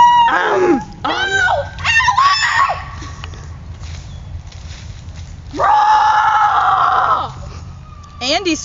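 A child cries out in short, high shrieks, then lets out one long, loud, sustained scream, close to the microphone.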